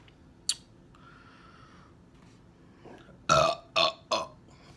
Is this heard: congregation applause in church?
no